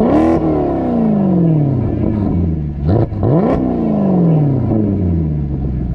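A sports car's exhaust revs loudly and close by, with several sweeping rises and falls in pitch and brief bursts between revs, heard alone without talk.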